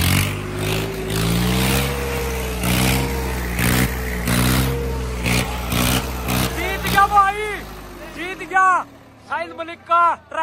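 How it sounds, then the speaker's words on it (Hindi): Swaraj 855 tractor engine revving hard at a crowded tractor contest, a loud low drone rising and falling in pulses, then cutting out as excited shouting voices take over near the end. "मलिक का ट्रैक्टर है, साहिल मलिक के ग्रुप का ट्रैक्टर जीत गया"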